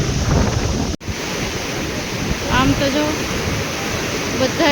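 Steady, loud rush of water roaring continuously from opened dam gates during heavy rain, with a brief dropout early on and faint voices underneath.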